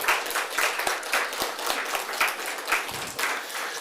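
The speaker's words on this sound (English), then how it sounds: "let's give all these candidates a round of applause" An audience at a candidate forum claps for the candidates, a steady patter of many hands at moderate distance with no talking over it.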